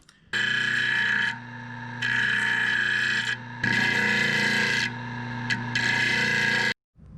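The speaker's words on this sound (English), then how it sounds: "Now I'm going to go round them off with the sander." A power sander rounds off small wooden mushroom caps, a loud steady grinding whir in three long bursts with short pauses between, ending abruptly.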